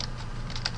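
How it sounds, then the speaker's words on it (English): A short burst of computer keyboard typing while a message is entered: a few light, close clicks over a steady low hum, with no talking. "type in your message,"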